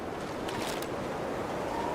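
Wind roars steadily in the survival game The Long Dark, a constant broadband gusting rush that barely changes over the whole stretch, with no voices.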